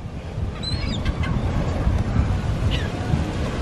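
A few faint bird calls chirp briefly over a steady roar of wind and surf, sounding distant and partly buried by the noise.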